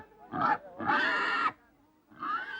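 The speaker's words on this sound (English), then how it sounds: "The correct pig is then brought on and tied to its allotted stake." A pig tethered to a stake at a ceremonial pig exchange among the Kawelka people gives three close, loud grunting squeals with short pauses between them.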